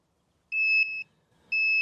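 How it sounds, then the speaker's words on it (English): A Toyota RAV4 key programming tool plugged into the car gives two clear electronic beeps, close and steady, each about half a second long, with silence between and around them. "First it'll beep twice like that, and then it'll begin a series of continuous beeps."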